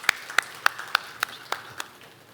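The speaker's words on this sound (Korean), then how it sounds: "우리 주님께 영광의 박수 올려드리겠습니다" A church congregation claps in praise after a prayer, about seven sharp claps in a steady rhythm that slowly fade, sounding moderately distant in a reverberant room.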